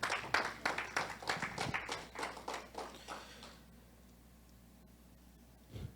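Church congregation clapping for the Lord during a Spanish-language sermon, a burst of hand claps that fades out after about three and a half seconds, leaving quiet room tone.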